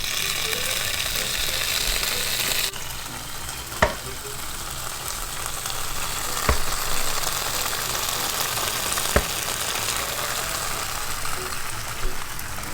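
Buffalo chicken grilled cheese on buttered, garlic-rubbed Texas toast sizzles steadily on the grill, a continuous frying hiss with a few sharp spatula clicks and taps scattered through.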